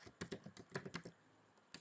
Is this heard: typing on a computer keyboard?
yes